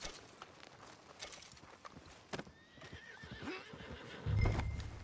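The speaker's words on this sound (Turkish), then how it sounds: "Nerede bizim atı da çağıralım." A horse in Red Dead Redemption 2 arriving when called, with a drawn-out neigh over approaching hoof clops and footsteps, ending in a louder low thump as it comes close.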